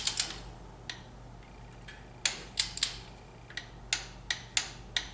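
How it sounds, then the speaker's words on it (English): A torque wrench ratchets in a series of crisp, close clicks while tightening a spark plug on a 2004 Nissan Xterra 3.3L V6, first scattered, then in a steadier rhythm, over a low background hum. "So I am going to put my torque wrench on there."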